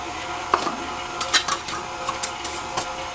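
An electric stand mixer beats cookie dough for double chocolate peanut butter cookies, giving a steady mechanical hum with faint irregular knocks and scraping against the bowl, close and without talk.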